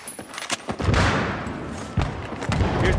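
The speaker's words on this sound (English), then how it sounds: "Hostile sniper fire in your area." Rapid gunfire in a Battlefield 3 Conquest match on the Grand Bazaar map, with several sharp shots and bursts crackling over a dense background of distant battle noise.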